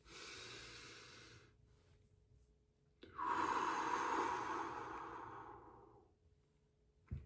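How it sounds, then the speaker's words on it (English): A person taking slow, deep breaths: a long airy exhale, a pause, then a longer, louder drawn-out breath that fades, close and quiet with no talk. "do 2 very, very slow deep inhales and deep exhales"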